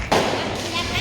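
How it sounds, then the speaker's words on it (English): Fireworks go off in a street in Phuket, Thailand, on New Year's Eve, a loud burst and crackling wash filling the moment amid a noisy crowd, with a voice talking. "Fireworks in the middle of the street."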